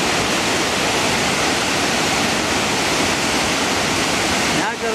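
A waterfall in the western United States roars steadily and loudly from close by at its base, a dense unbroken rush of falling water that fills the whole stretch without pause.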